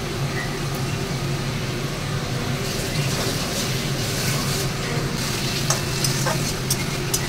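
Cauliflower stirred into a spiced fish curry masala frying in a pan, with a loud continuous sizzle and hiss and repeated scraping strokes of a spoon, close up and without talk.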